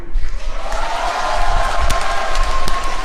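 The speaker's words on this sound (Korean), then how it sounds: "이 박수 치는 분들도 많으신 거 보니까 맞는 모양이네" An audience at a Seongnam city civic meeting claps steadily, with a dense crowd wash and a few sharper claps standing out, under scattered voices.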